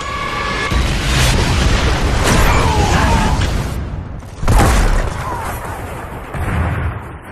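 Mortar shells exploding in Gears of War 3 multiplayer King of the Hill, heavy rumbling booms rolling over sustained noise, one sharp loud blast near the middle, with shouted voices mixed in.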